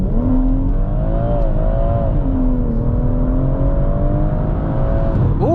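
A 440 bhp BMW M140i Shadow Edition accelerates hard with traction control off, its engine droning loud and steady from inside the cabin as the pitch climbs through gears with brief dips at each shift.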